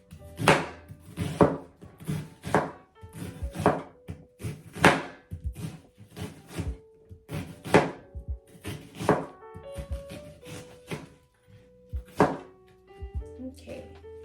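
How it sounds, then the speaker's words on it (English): Knife chopping an onion into diced pieces on a cutting board, a steady run of sharp, close thunks in irregular bursts of several strokes, pausing briefly near the end. "you're just gonna cut it horizontally, and it'll come out into some diced pieces"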